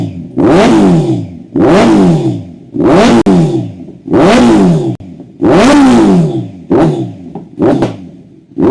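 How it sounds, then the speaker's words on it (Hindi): Motorcycle with a Zard aftermarket exhaust revving hard in repeated blips, a deep loud roar rising and falling about six times, close up, then a few shorter sharp throttle stabs at the end, with no voices. "बट भाई Z900 वगैरह में भी आप लगाना चाहते हो तो काफ़ी बेहतर एग्जॉस्ट है"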